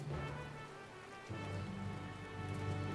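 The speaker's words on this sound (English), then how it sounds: "It's raining!" Rain falls in the video game Final Fantasy XIV Dawntrail, a steady hiss of rainfall over a low rumbling bed that drops briefly and then swells again, with no talk.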